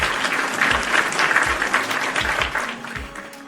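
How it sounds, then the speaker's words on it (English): Audience applause during a pro wrestling podcast, a dense steady wash of many hands clapping that stays loud throughout and tails off slightly at the end. "So round of applause for the PWT universe."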